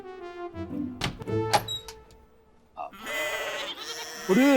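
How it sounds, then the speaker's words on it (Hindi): A goat bleats several times in a quavering, nasal call, close and fairly loud, with a thud and a burst of noise in between, inside a comedic indoor scene. "इधर में बकरी का आवाज आता है रे।"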